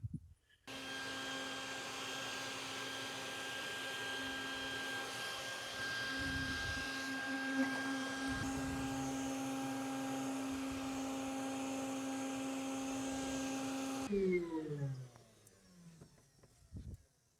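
Vacuum drone runs steadily for about 13 seconds against the dusty outdoor coils of a Mr Cool 24K BTU mini split AC, loud and close with a sustained whine, then cuts off and leaves faint background noise.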